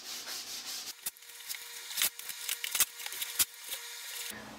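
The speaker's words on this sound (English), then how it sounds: "cleaning up some of the edges with a file and sanding it down so that it's nice and smooth" Hand filing and sanding smooth the edges of a freshly cut circle for a clock build, close and dry, with uneven scraping strokes and sharp rasping bursts, no talking.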